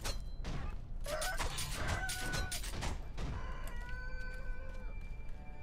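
Chickens in the video game Sekiro cluck and squawk in a busy flurry of short, overlapping calls, fairly close and moderately loud, with a few sustained tonal game sounds lingering underneath as the clucking thins out.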